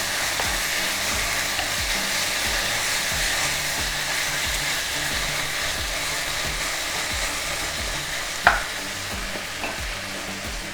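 Beef strips stir-fry in a hot pan for beef chow fun, sizzling steadily and fairly loudly with rhythmic scraping stirs and one sharp clank of a utensil near the end.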